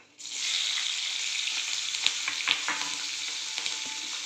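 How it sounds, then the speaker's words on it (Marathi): Green chillies fry in hot oil over a low flame after cumin seeds and asafoetida go in, giving a steady close sizzle with a few sharp spatters and stirring clicks throughout. "याला व्यवस्थित आता फ्राय करून घ्यायचं आहे दोन ते तीन मिनटं मिरची एकदम मऊ व्हायला पाहिजे"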